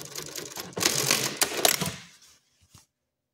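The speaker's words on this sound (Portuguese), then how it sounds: "Então eu vou descer com essa costura que eu comecei lá em cima, olha só." A sewing machine stitching a trouser seam whirs briefly and close, then stops and falls quiet after a short mechanical click.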